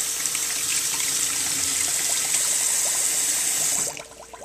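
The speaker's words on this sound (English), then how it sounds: "a handful of blueberries that I'm going to wash off" Tap water running steadily into a sink while blueberries are washed, a close, even hiss and splash that cuts off near the end, leaving a few faint drips and handling sounds.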